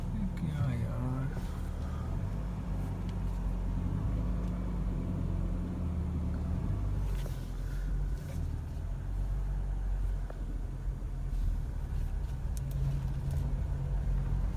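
A Toyota Prius on the road, a steady low engine and road rumble running throughout under continuous talk, with a slight shift in tone partway through as it drives along.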